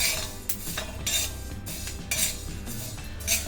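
Roasted horse gram scraped and scooped from a pan onto a plate: repeated close metallic scrapes and clinks in irregular bursts, with a low hum underneath and no talk.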